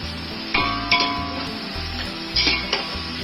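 Onions with a pinch of salt sauté in a pan for mutton dum biryani: a steady close sizzle with scraping stirs and a few light metallic clinks of the spoon against the pan, no voices.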